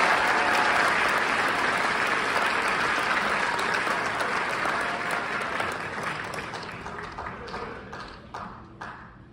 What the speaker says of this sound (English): I would like to please have a round of applause and welcome our guest conductor